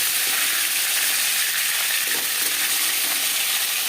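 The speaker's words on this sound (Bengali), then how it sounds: "একটা সাইড ভাজা হয়ে গেলে অপর সাইডটা উল্টে দেবো" Shol (snakehead) fish frying in a pan, with a steady, dense sizzle and crackle that stays close and continuous throughout, alone with no voices.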